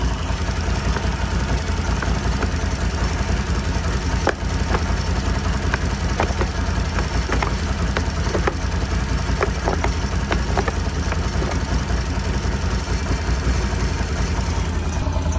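A Can-Am Renegade XMR 1000 ATV engine idles steadily up close, with a low rumbling drone and a series of sharp mechanical clunks as gears are shifted.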